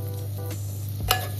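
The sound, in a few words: frying ginger garlic paste and spice powders in a pan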